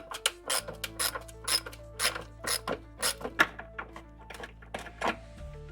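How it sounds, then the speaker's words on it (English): Wrench ratcheting out a 10mm bolt during fuel filter replacement on a 2005-2009 V6 Ford Mustang, a steady series of close metallic clicks and thunks with no talking. "let's take out this other 10mm"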